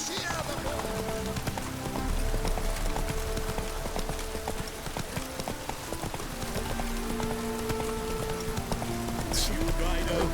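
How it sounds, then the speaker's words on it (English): Rain falls in The Witcher 3 video game as a continuous fine patter, overlaid with steady horse hoofbeats and faint sustained musical tones throughout. "And it's raining again."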